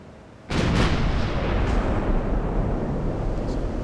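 Warship secondary guns firing in the naval strategy game Ultimate Admiral: Dreadnoughts, a sudden loud booming salvo followed by a sustained rumbling roar of continued gunfire and heavy reverberation.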